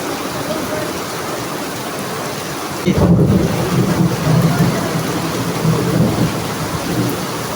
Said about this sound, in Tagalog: grabe lakas ang ulan